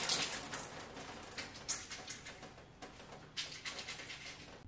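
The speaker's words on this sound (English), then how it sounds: "Then I scrunch the conditioner into my hair." Conditioner scrunched into wet wavy, curly hair makes soft, squelchy, crackling squishes in a repeated rhythm, heard close and quiet with no talk.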